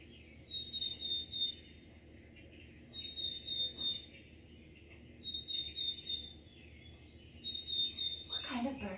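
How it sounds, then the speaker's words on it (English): Chickadee song of thin, high, pure whistled notes repeated in four evenly spaced pairs over a soft, faint background. "That's a chickadee."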